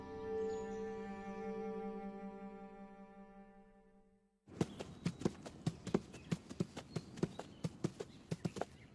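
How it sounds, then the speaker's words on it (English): Horse hooves clip-clop at a steady walking pace from an anime scene, starting abruptly after a fading sustained musical tone and continuing as evenly spaced, fairly close hoofbeats with no talk. "That horse."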